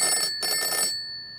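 A telephone rings in two close bursts of bright, trilling electronic bell tone separated by a short gap, then fades into quiet room tone.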